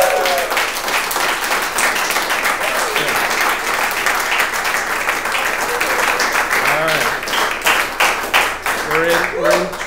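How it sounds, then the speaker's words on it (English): Sustained, dense applause from a room full of political supporters at a Toronto-Danforth event, loud and close throughout, with a few voices and cheers rising above the clapping near the end. "Give yourself a round of applause"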